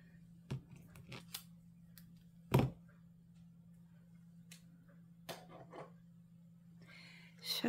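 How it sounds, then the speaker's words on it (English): Nano tape being cut with scissors and pressed down during diamond painting: a few sharp, quiet snips and taps spaced over several seconds above a faint steady hum. "I'll stick some nano tape on him."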